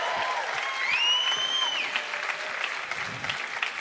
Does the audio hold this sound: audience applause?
yes